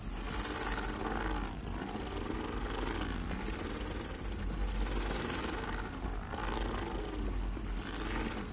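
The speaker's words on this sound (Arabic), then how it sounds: "لدينا طائرة في الجو بالفعل" Aircraft in The Division 2 video game, a steady loud roaring drone with a rotor-like throb that holds constant throughout, no voices over it.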